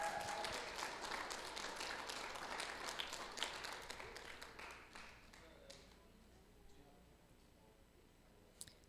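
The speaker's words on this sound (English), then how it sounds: "Can we get a round of applause for the first round of the knockouts here?" Applause at a student racing competition's national finals, loud and dense at first, then gradually thinning and fading to scattered claps, with faint voices in the background.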